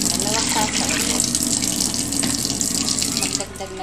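Water pours steadily into a cooking pot to boil pancit canton noodles, a close, continuous splashing rush that eases slightly near the end.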